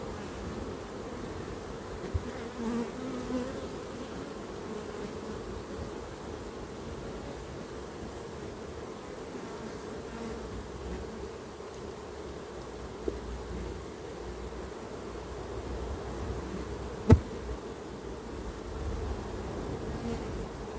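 Honeybees in an opened beehive make a dense, steady buzzing hum, close and continuous, with a few faint knocks and one sharp tap along the way.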